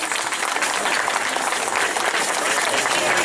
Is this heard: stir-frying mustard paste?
no